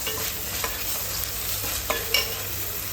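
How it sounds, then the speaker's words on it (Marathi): Frozen peas are sautéed in a pan, a steady close sizzle broken by a few scraping stir strokes, with no talk. "आता आपल्याला 2 ते 3 मिनिट छान आता हे परतून घ्यायचं आहे"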